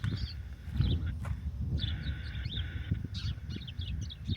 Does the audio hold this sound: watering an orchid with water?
no